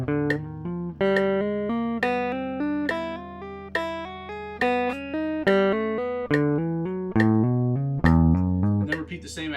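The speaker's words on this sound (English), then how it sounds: "you're going to downstroke the string, and then you're going to hammer on your index and middle finger" Electric or acoustic guitar exercise: a single string struck with a downstroke, then index and middle fingers hammering on, giving a steady run of plucked notes about once a second, each bending into higher pitches, played alone and close.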